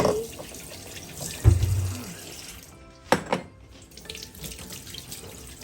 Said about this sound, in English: You're washing them in cold water.